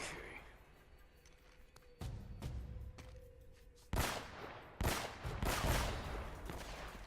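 Gunfire in the Uncharted: Drake's Fortune video game, with a few sharp bursts of shots standing out over a busy background of combat noise, loudest in the second half.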